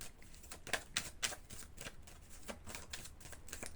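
A 36-card oracle deck is shuffled close by, producing soft repeated riffling flicks in a steady rhythm, quiet and alone.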